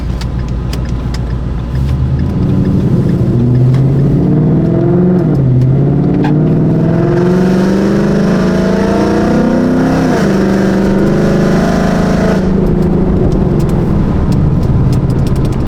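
A roughly 700 hp C6 Corvette Z06 V8 revs loudly and continuously, climbing and falling repeatedly over about fifteen seconds before dropping back near the end.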